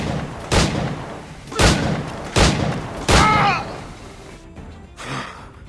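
Gunshots from the video game Assassin's Creed 4 Black Flag: four loud, sharp blasts spaced about a second apart, each with a short decay, then a fainter fifth report.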